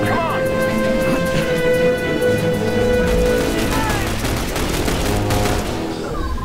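A turret in The Bureau: XCOM Declassified fires a sustained, loud barrage of rapid rounds under tonal game sounds and voices, steady throughout and easing slightly at the close.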